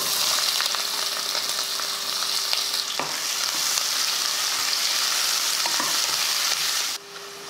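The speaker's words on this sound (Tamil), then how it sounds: "வெங்காயம் பாருங்கள் நல்லா வதங்கிருச்சு" Onions sautéing in oil in a pressure cooker with whole spices; a continuous close sizzle with scattered stirring clicks that drops off sharply at the end.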